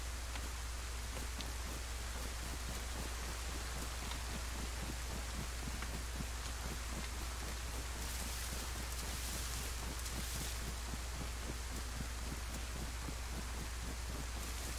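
Steady rain falling in the video game DayZ, a constant dense hiss with soft patter that continues evenly throughout at moderate level, with no talk.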